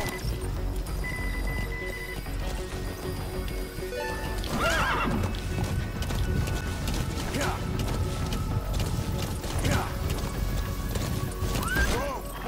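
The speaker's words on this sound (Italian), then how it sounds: "Cavallo, dai." A horse gallops in the video game Metal Gear V: The Phantom Pain, with a steady, close clip-clop of hoofbeats and several loud whinnies mixed over game ambience and mechanical clicks.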